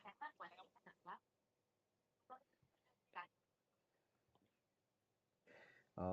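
Loud quacking bird calls from the Minecraft video game come in quick bursts, then fall quiet with scattered faint calls before a louder burst returns.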